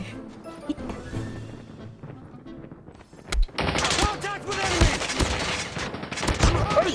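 Bursts of gunfire in the mobile shooter game Call of Duty Mobile, a quieter stretch giving way to dense, loud volleys with sharp individual shots toward the end, with someone talking over parts of it.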